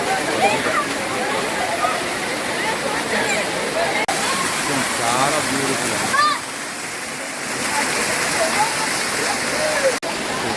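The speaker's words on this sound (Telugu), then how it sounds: "ఇదొక వెరైటీ ఆఫ్ వాటర్ ఫాల్" A loud, constant roar of a waterfall fills the scene, with people talking over the rushing water.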